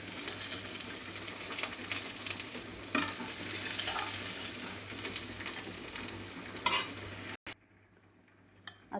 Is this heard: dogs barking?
no